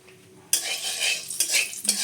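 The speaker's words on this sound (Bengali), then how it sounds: "কড়াইতে আর একটু তেল দিয়ে দিলাম, পেঁয়াজ। এবার এই ফোড়নের জন্য দারচিনি আর এলাচ দিয়ে দিলাম," Cinnamon, cardamom and chopped onion drop into hot oil in a wok, giving a sudden burst of close sizzling and spattering with a few stirring scrapes, no talking.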